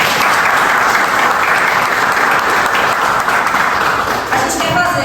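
An audience gives a sustained round of applause for the Libras sign language interpreters at a cultural event, a loud, dense, even clatter of many hands that carries on throughout, with faint voices mixed in.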